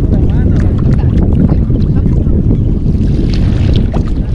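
Strong wind on a small fishing boat at sea off El Salvador, a loud, continuous gusty roar buffeting the microphone with indistinct voices underneath.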